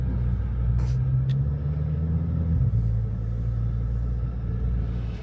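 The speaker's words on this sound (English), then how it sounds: "Alvaro and his doomsday truck have arrived." A truck arrives with a steady low engine rumble that swells and holds near, a heavier drone dominating a car-park setting at a fast-food restaurant, with faint background noise and no clear speech.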